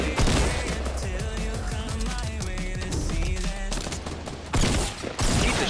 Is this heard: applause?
no